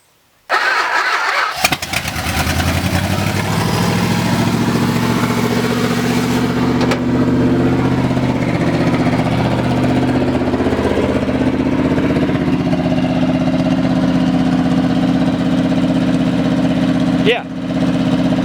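An abandoned 1969 Dodge Charger, left sitting 34 years, cranks and fires up, then settles into a loud, steady close-up idle with a deep, rough rumble, briefly dipping near the end while voices speak over it.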